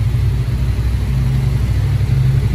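A Honda CBX 550 motorcycle engine runs in an enclosed workshop, giving a steady, deep, loud rumble with small pulses and no talk over it.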